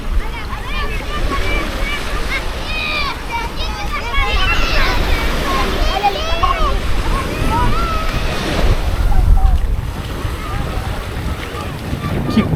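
Sea waves wash steadily along the Daniela beach trail in Florianópolis, a continuous surf roar mixed with wind buffeting the microphone and voices talking over it.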